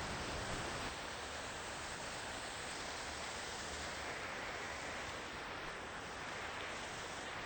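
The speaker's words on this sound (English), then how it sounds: "Going down to see this falling water." A waterfall roars as a steady, broadband rush of falling water, constant and unchanging throughout, faint overall with no voices.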